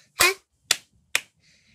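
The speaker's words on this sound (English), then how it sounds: "Every happy hand clap." Three sharp, separate hand claps, the first fuller and longer, the next two quick and crisp about half a second apart, followed by a faint high tonal sound.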